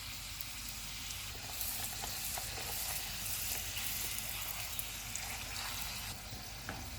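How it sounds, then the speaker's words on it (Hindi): Golgappa puris deep frying in oil over a low flame give off a steady, close crackling sizzle with small pops throughout, quiet overall. "इनको फ्राई करते हुए हम चूल्हे को कम रखेंगे, थोड़ा थोड़ा सा इसको प्रेस करेंगे।"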